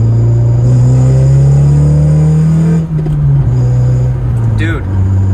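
A 9th-generation Honda Civic Si accelerates hard from inside the cabin, its engine droning loud and rising in pitch, then briefly dropping at a shift before pulling again.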